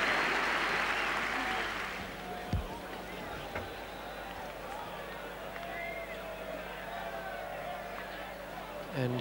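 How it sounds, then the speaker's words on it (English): A cricket crowd at Leeds rises to applaud a departing batsman during the 1985 England v Australia Ashes Test, a loud burst of clapping for about two seconds that then settles into fainter crowd noise beneath a commentator's talk. "a chance for the Leeds crowd to get on the feet and applaud him up those pavilion steps"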